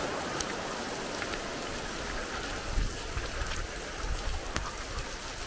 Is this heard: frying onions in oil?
no